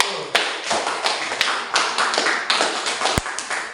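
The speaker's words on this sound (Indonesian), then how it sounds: "Tepuk tangan lo buat Firdaus." Students applauding in a classroom during a physics lesson on heat transfer, a dense, steady patter of many hands clapping close by, continuous through the whole stretch with a few sharper claps standing out.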